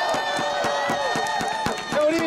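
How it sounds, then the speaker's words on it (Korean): Fans in a Korean pro baseball stadium, Nexen Heroes vs Hanwha Eagles, clap and cheer in a steady rhythmic beat under sustained chanting voices, swelling slightly toward the end. "다시 한번 경기 박수를 부탁드립니다."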